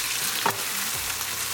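Tomatoes fry and sizzle in a pan for mushroom masala, with a steady close hiss and a brief scrape of stirring partway through, no voices.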